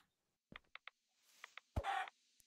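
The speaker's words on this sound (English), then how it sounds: "Chicken." A Minecraft chicken clucks in a run of short, evenly spaced game sound effects, followed by a brief louder burst of mixed in-game noise, fairly quiet overall with no talking.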